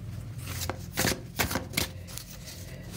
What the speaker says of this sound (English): I'm going to go ahead and give the cards a shuffle.